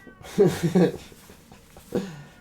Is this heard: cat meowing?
yes